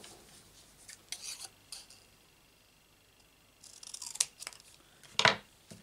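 Scissors snip through card stock during a paper craft project, a few short crisp cuts in small bursts separated by quiet pauses, close and fairly soft.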